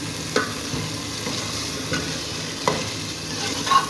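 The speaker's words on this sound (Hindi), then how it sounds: "और अब मैं इसमें टमाटर ऐड कर दूंगी। अच्छे से मिक्स करूंगी।" Tomatoes are stirred into spiced dal gosht frying in a pot, a steady sizzle beneath intermittent scraping stirs of a spoon against the pan, close and alone without voices.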